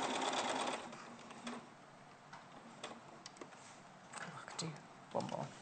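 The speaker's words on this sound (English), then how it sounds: "Sew around the outer edges." A sewing machine stitches around the outer edges of a fabric bib in short, faint bursts of rapid ticking, softly in the background.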